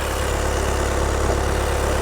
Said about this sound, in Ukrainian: Мотор вже нормально прогрівся.